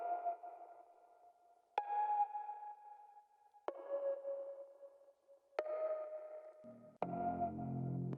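A basic synthesizer patch from Signal Contact plays dry with no effects: sustained sonar-like tones that restart with sharp attacks about every two seconds, shifting pitch slightly, with a lower, thicker tone entering at the end.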